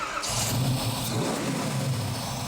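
A '71 Chevelle with a big-block rat engine fires up and revs, giving a loud, close rumble that swells into throaty revving and holds steady, with no voices.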